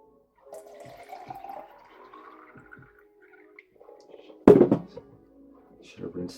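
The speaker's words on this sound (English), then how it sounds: "this is the water from the zero pitcher into the alkaline pitcher" Filtered water from a Zero water filter pitcher pours into an alkaline pitcher, a soft trickling gurgle followed by a sharp splash and clunk near the end, close and fairly quiet.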